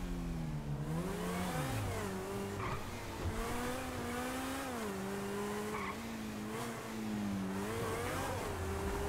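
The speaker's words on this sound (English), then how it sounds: "And this car sound clean" Car engine in GTA V revving and shifting through gears at steady volume, pitch rising and dropping repeatedly with tire squeal and skidding, and no talk over it.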